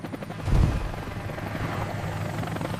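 Cartoon helicopter hovering low to blow wind over flowers, a steady broadband rotor wash roar with a brief louder whoosh near the start, then a continuous whirring rush.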